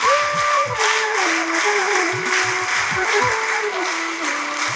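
Applause from the audience at a Navajeevana convention award ceremony in the Amruthavarshini hall at Dharmasthala, a broad steady wash of clapping lasting throughout, with music or a tonal sound running underneath.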